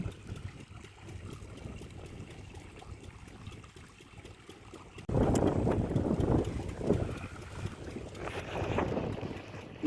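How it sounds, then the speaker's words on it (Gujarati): Cold wind blowing across an open farm field with crops, steady gusty rushing and microphone buffeting that grows louder and rougher halfway through, with no rain. "એક તો એટલો હે ને ઠંડો પવન આવે ને, વરસાદ નથી આવતો ખાલી પવન આવે"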